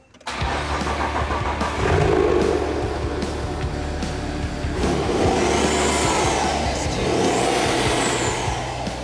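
BMW N57 diesel engine in a Nissan Patrol conversion cranking and firing up, then settling into a loud, steady rumbling idle with a slight rev partway through, heard close up.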